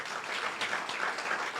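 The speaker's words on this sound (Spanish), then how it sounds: "Un aplauso al Señor." Brief, fairly faint applause from a church congregation during a worship service, a soft, even wash of many hands clapping at a distance.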